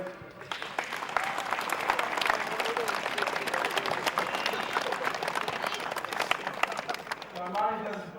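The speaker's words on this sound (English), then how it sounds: "so just a round of applause for Southern Gales." A crowd at a football team's gathering gives Southern Gales a round of applause, dense continuous clapping lasting several seconds, loud and close, fading with a few voices near the end.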